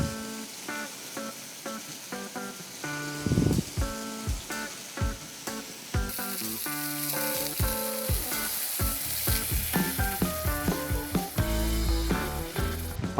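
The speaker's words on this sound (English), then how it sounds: "By adding that sauce back into the pan, of course we're picking up all the flavour that's in the base of that pan that the meat has left behind" Sauce sizzles and bubbles as it reheats in a frying pan after a pepper steak has been cooked in it, a steady crackling hiss with occasional stirring and utensil taps, heard alone and fairly close.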